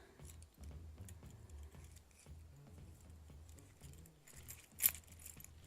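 Keys jangling on a keyring beside a small get-home or everyday-carry bag, soft metallic clinks close by and scattered across the clip, ending in one sharper jingle near the close.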